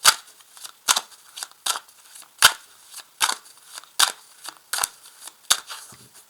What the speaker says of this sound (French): je vais utiliser ici ce tarot et je vais tirer 3 cartes